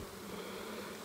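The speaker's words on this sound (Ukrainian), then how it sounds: "А так працюють бджоли" Honey bees work at a forest hive in a dense, steady buzzing hum, close and constant through the whole short moment.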